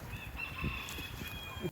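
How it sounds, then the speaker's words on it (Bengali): Chickens on a farm in Columbia, South Carolina cluck and call nearby in short bursts, with a steady faint high hum in the background. "অনেক ধরনের চিকেন আছে এখানে"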